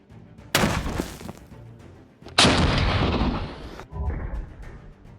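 Shots from a Soviet WW2 PTRD 14.5mm anti-tank rifle fired at armored steel and sandstone: two loud, heavy blasts with long rumbling, debris-laden tails, close and dominant.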